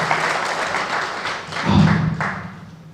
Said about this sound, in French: Applaudissez ça s'il vous plaît, applaudissez.